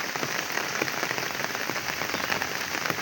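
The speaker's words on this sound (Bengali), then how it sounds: "শুধু বৃষ্টি আর বৃষ্টি।" Steady rain falls across a village, a dense, even patter of drops on surfaces filling the whole stretch with no voices.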